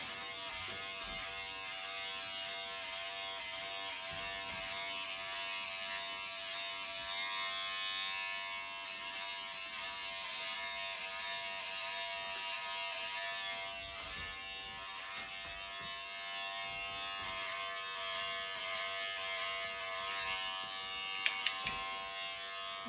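Electric hair clippers buzz steadily and close up while cutting a boy's hair at home, a continuous high whine with slight shifts in pitch as the blade moves, with no voices over it.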